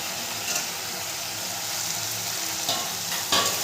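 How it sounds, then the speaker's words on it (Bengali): Green peas get stirred into spice paste frying in a pan, with a constant close sizzle and a few scraping stirs that rise briefly above it. "মটরশুঁটিটা দিয়েও আমি ভালো করে মিশিয়ে নেব"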